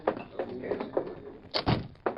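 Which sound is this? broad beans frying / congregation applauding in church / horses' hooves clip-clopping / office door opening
office door opening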